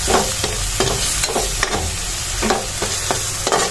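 Corned beef and potatoes fry in a pan while a utensil stirs them, giving regular scraping strokes about every half second over a constant close, loud sizzle.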